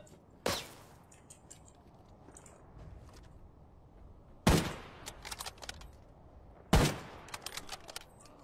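Gunfire from shooting bots in Arena Breakout, three sharp loud shots spaced seconds apart, each followed by short trailing echoes and clatter against a quiet outdoor backdrop.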